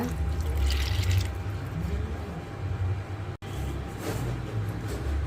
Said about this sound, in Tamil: தண்ணி கொஞ்சம் தாராளமாகவே ஊற்றி அரைச்சிக்கோங்க